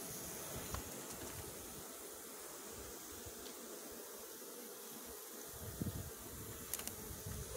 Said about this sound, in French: déjà on a un frelon asiatique dans le coin